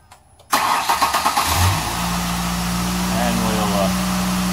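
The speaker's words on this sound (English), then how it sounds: "Okay, start her up," A car engine is cranked and catches after a short silence, then settles into a steady idle, loud and close, during an alternator charging check with a battery tester.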